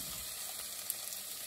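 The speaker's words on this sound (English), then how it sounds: "now right about time to put the onions in" Onions sizzling and frying in a hot pan, a continuous bright crackling hiss with no speech.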